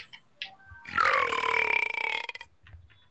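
A single loud, drawn-out burp about a second and a half long, close and resonant with a rising, wavering pitch, between brief breathy sounds.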